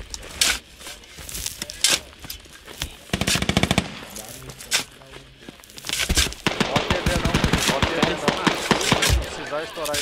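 Rapid automatic gunfire from a video game, coming in repeated bursts of varying length with short gaps, loud and close, with other game noises mixed in.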